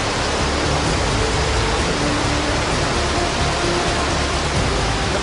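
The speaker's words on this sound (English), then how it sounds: "you don't allow the river to sweep you away, because there's a load of rapids just down there" River rapids rush through Son Doong Cave, a dense, unbroken roar of white water that stays loud and close throughout, with no voices over it.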